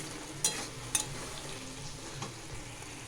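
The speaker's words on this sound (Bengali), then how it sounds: "দেখো মাছ ভাজা" Fish fries in oil in a pan. A quiet, even sizzle runs underneath, broken by a couple of sharp clinks from stirring early on, with no voices.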